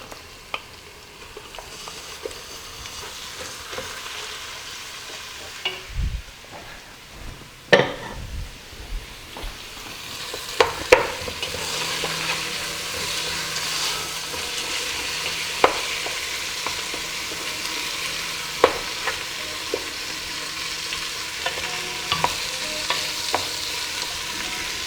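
Meat for gheymeh polo drops into a hot pan and sizzles, building into a steady loud fry, with a utensil scraping and stirring against the pan at irregular intervals and no talking.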